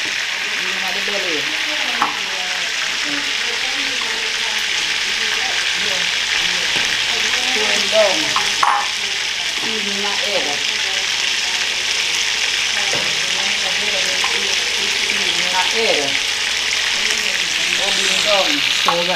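Fish frying Jamaican style in a pan, a constant close sizzle and crackle with scattered stirring clinks and scrapes running throughout, with no talk over it.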